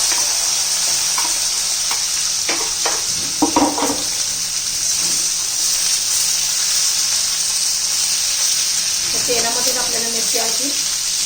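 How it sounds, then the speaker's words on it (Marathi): Finely chopped capsicum (bell pepper) sizzles and fries in a pan with a steady hiss, with brief stirring clatters and some soft background sounds. "आता आपण बारीक चिरलेली शिमला मिरची घालूया"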